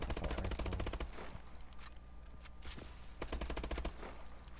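Rapid automatic bursts from an AK-12 assault rifle in a video game, loud and close, firing in two long strings separated by a short gap with sparser shots in between.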